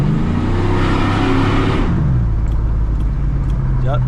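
A truck engine revs hard inside a short tunnel, loud and close with a booming low rumble that echoes off the walls, then drops back to a steady idle-like drone for the last couple of seconds.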